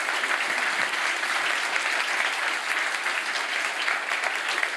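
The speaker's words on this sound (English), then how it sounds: "give him a big applause" A sizable seated audience gives a warm, sustained round of clapping after a speaker finishes, a thick, unbroken wash of hands at steady volume with no voices over it.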